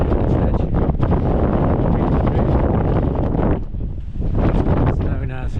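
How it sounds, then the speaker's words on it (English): Blustery wind on Stanage Edge in the Peak District roars across the microphone in loud, continuous rumbling gusts, with a brief lull near the end. "A bit blustery today."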